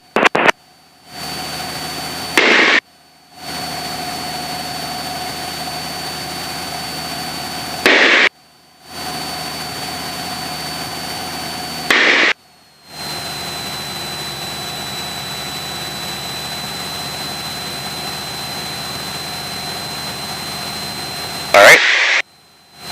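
The engine of a Cessna Skyhawk taxiing from the fuel ramp drones steadily through the cockpit intercom, its even hum repeatedly cut off by abrupt silent gaps and short clicks.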